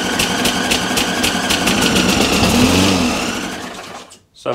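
A Hayter Ranger 53 lawnmower engine runs close up with a rapid, steady ticking rumble and a faint thin squeal, then cuts out abruptly near the end before a brief noise returns.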